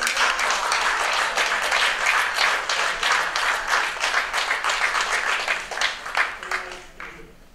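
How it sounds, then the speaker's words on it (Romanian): Audience applause at the Artgothica festival in Sibiu, 2016, with dense, steady clapping filling the hall for the full length before easing slightly near the end; no one speaks over it. "vă rog să-l aplaudați pe Valeriu Mircea Popa"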